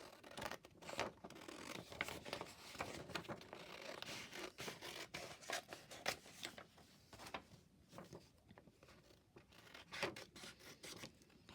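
Scissors snip and rustle through printed paper trims for a junk journal, a steady run of close, quiet cuts and paper scraping with no talking.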